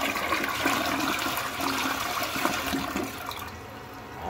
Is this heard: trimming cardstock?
no